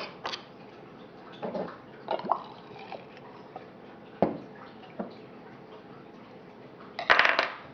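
Marinade liquid dripping and squishing while roast beef is prepared, a few scattered soft drips and wet splats at irregular intervals, close and fairly quiet, ending in a brief louder splash.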